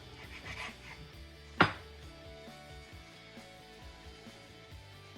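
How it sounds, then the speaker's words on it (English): A knife cuts a piece of bannock dough, giving one sharp, brief chopping knock against the board amid faint kitchen background, with no talking. "Let's grab a knife. You can use a butter knife, you can use a steak knife. I'm going to cut off a piece."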